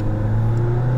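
Mazda ND Roadster engine droning steadily on a pylon autocross course, a close, continuous mid-low hum with no gaps throughout.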